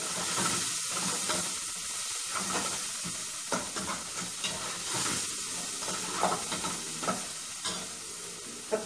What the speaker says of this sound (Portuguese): a taioba picada aqui, ó, tá toda picada e vou estar refogando ela agora